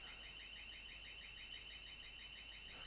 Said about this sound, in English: And the alarm is still going on